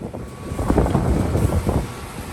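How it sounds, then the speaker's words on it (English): Gusty wind buffeting outdoors, a low rumbling roar that swells and eases in a few bursts, close to the microphone. "It's kind of windy today"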